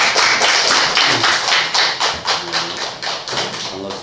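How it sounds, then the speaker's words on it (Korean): Sustained crowd applause welcomes a monk giving a Buddhist culture lecture at Jeungsimsa temple in Gwangju, a dense steady patter of many hands clapping that thins slightly toward the end. "큰 박수로 모시겠습니다"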